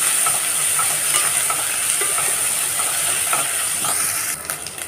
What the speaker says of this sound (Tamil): இஞ்சி பூண்டு பச்சை ஸ்மெல் போகிற வரையும் கொஞ்சம் வதங்கட்டும்